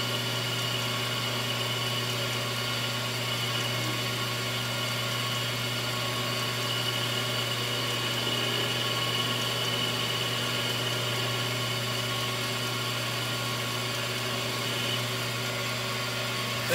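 A 9x20 CNC-converted lathe running a finish pass with a light trickle of coolant gives a steady, continuous machine hum with a low drone and even mid-range whine, unchanging and alone throughout.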